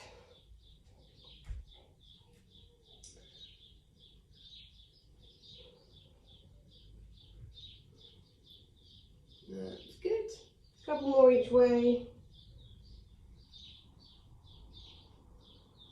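Faint, repeated bird chirps tweet in the background while a person speaks briefly nearby.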